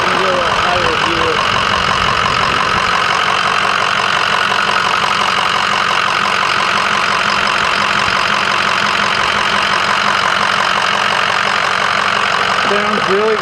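A 2006 Ford F-450 truck engine idles nearby with a loud, steady, even knocking chug that holds without a break throughout.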